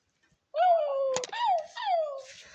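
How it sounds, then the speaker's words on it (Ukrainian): A small pet dog whines and yelps in a string of drawn-out, rising and falling howl-like cries, close and fairly loud, with a brief sharp noise partway through. "Вона говорить. Ну, Як собака, звісно ж."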